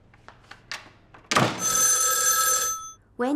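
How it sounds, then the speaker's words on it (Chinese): A telephone bell rings loudly in one long, steady burst after a few soft knocks and thuds in an indoor room. It cuts off and is followed by a short voice. "周科长，电话"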